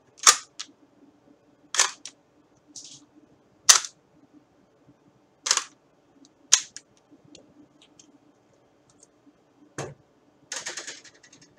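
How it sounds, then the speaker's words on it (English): A .22 rifle's turn bolt being worked by hand with dummy rounds loaded, giving sharp, close metallic clacks and snaps in separate bursts spaced a second or two apart against near silence. "This .22 rifle, also loaded with dummy rounds, has a bolt, which operates like a turn bolt."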